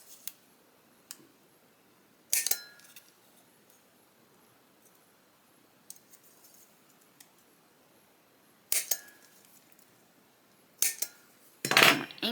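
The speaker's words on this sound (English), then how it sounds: "I'm going to use my hole punch to cut out the corners of those tags" A handheld hole punch cuts the corners off paper tags, giving a few sharp, crisp close-up clicks separated by long quiet gaps, with a quick double snap at the end.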